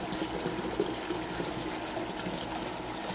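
Water flowing from the bottom tank to the top tank of a water filtration system, a steady soft trickling stream under a faint background hum, continuous and fairly close.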